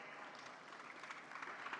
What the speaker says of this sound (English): You can keep clapping, it's a good exercise.